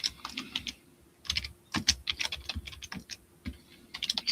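Steady typing on a computer keyboard during a live auction listing, quick irregular clatter of keystrokes close by with brief pauses, fairly quiet, no voices.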